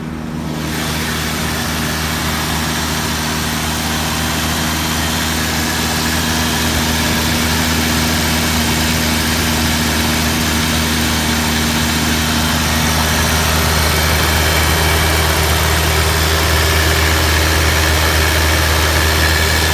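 A Rolls-Royce car engine starts up and then idles loudly and steadily, a constant rumbling drone close by.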